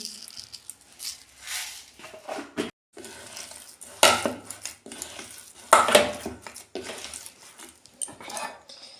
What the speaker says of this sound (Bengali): আমি ভালো করে মেখে নেব অল্প চিনি দিচ্ছি